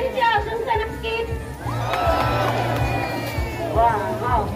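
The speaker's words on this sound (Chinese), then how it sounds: "尖叫声也出现了，来尖叫声，尖叫声，尖叫声在那边。" A festival crowd at the Baishatun Mazu procession in Taiwan shouts and cheers, high excited cries and whoops rising over a steady, dense hubbub throughout.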